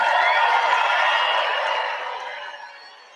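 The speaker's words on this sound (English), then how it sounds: "let's have a big round of applause for the men and women of the United States Armed Forces" A large political rally crowd applauds for the armed forces, broad dense clapping filling the space loudly and then tapering off toward the end.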